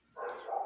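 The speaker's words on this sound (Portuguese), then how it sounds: "E ele decidiu latir agora." A neighbor's dog gives a single short bark, faint and distant, alone in an otherwise quiet room.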